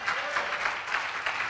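A church congregation clapping together during a worship service's offering time, dense sustained applause with rhythmic swells, fairly close and steady, no speech over it.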